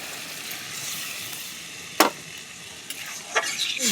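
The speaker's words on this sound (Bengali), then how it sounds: "এবার আমি সবজিতে জলটা দিয়ে দেব, যাতে সব সিদ্ধ হয়ে যায় ভালো করে।" Water is poured into a pan of frying pumpkin, pointed gourd and potato curry with chana dal, giving a steady sizzle that flares into sharp bursts of hissing as the liquid hits the hot vegetables.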